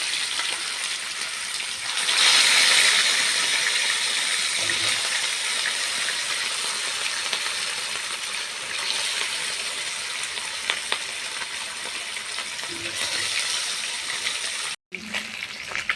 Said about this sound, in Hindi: चलतु एबे माछ को भाजीबा।